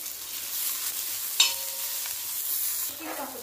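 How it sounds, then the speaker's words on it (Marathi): Onion and garlic sauté in oil with a soft, continuous sizzle, a sharp clink of a spoon against the pan and light stirring; no speech. "कांद्यावरती थोडं तेल टाकून भाजायचे आपल्याला मस्त।"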